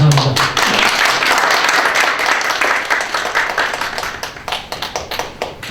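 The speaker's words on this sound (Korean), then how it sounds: "작가님께 다시 한번 뜨거운 박수 부탁드립니다." An audience applauds at a lecture, a dense burst of clapping that stays full for several seconds and then thins into scattered, fading claps.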